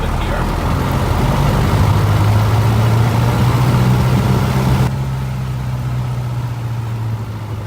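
A Piper Cherokee's piston aircraft engine runs up to 2,000 RPM, holding a loud, steady drone with a low tone before easing slightly to a lower, quieter level partway through.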